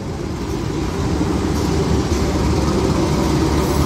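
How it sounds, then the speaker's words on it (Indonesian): A locomotive-hauled train rumbles steadily and loudly into Jatinegara station, a continuous heavy mechanical roar with faint rattling, as if rolling in close by. "Jalur 7 masuk kedatangan kereta api Tawang Jaya."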